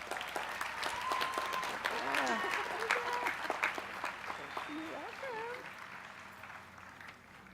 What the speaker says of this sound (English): Please recognize her with our applause.